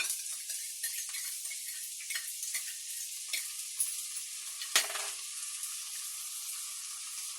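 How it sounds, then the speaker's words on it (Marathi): Fried rice sizzling and frying steadily in a pan as red and green chilli sauces go in, with light stirring scrapes and a sharp utensil clink partway through; a continuous close hiss with no talk. "हे सॉस टाकते, रेड चिली सॉस आहे. हे ग्रीन चिली सॉस आहे."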